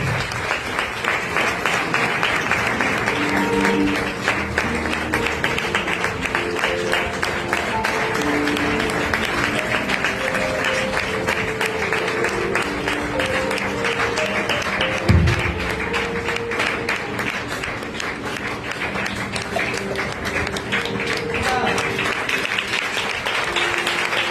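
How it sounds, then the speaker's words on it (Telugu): A small church congregation in a slum area claps to welcome visiting guests: sustained, dense applause from many hands, with a single thump midway and a gradual easing near the end. "ఈ చిన్న సంఘంలోకి వచ్చిన దైవజనులను చప్పట్లు బట్టి ఆహ్వానిస్తున్నాం"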